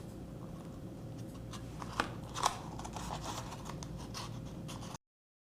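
A paper card cut on a Cricut machine is folded in half by hand, giving soft, close paper rustling and scraping with a couple of sharper creasing crunches, quiet and without talk.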